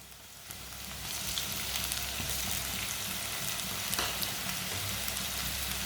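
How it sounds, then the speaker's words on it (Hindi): Crushed garlic fries with browned onions in a pan, a continuous gentle hiss of sizzling oil with an occasional stir, quiet and close. "लहसुन को भी 1 मिनट के लिए पका लेंगे।"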